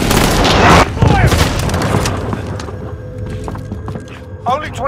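Gunfire in the video game Warzone: a loud opening burst of shots and booms, then scattered quieter reports and clatter, with a voice talking over it.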